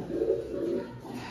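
Pet pigeons kept for sale in Madhyamgram coo softly in a short, close, low murmuring burst that rises and falls, with no talk over it.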